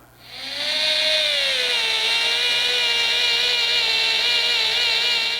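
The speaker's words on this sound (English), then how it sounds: "So now we've got 2, 4, 6, 8 holes to drill." A power drill spins up and bores holes into a ZF8HP45 transmission part, a loud, steady high-pitched whir that rises from quiet within the first second and holds continuously, close and alone.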